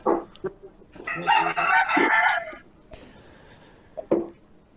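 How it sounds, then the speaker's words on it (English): Roosters and chickens on site: one loud rooster crow rises and holds for about a second, with scattered clucks before and after and faint voices in the background. "We've got chickens, we've got kids, we've got roosters."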